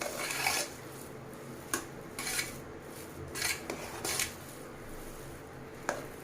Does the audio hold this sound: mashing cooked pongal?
yes